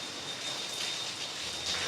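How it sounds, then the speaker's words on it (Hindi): Heavy rain pours down outside, a steady, loud, even hiss of water that fills the whole stretch without a pause. "बारिश बहुत ज़्यादा तेज़ है"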